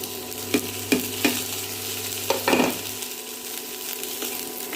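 Onions, shallots and tomatoes sautéing in butter in a pan for paneer butter masala, a steady close sizzle broken by several sharp scraping stir strokes, with a low hum that stops partway through.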